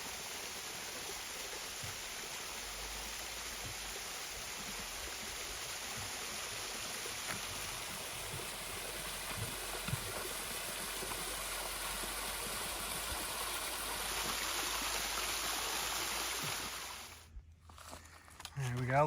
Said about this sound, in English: Here's the waterfall and one of the true heroes of the Bartram Trail.